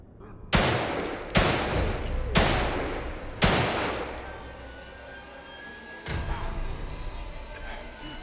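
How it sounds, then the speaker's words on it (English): Handgun shots in The Evil Within 2: four sharp, loud reports in fairly quick succession, then a fifth after a pause, each with a short ringing decay. "I can actually shoot through that hole"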